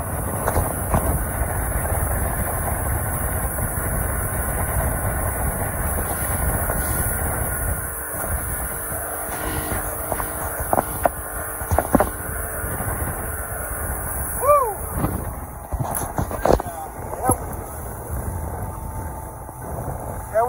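A 1986 85 hp Force outboard motor runs steadily at speed, giving a continuous rushing roar mixed with wind and water noise, with a few faint sharp knocks and clicks near the end.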